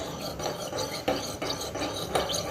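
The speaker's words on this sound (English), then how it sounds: "So I'll give it a quick stir." Milk stirred briskly in a cheese pot for Romano, a quick run of rhythmic scraping and swishing strokes of a spoon against the pot, close and fairly loud, with no talking.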